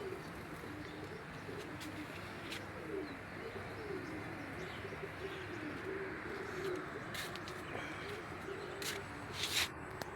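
Pigeons coo repeatedly beside a pigeon house in a rooftop garden in Pabna, soft and fairly distant, with scattered chirps from other birds.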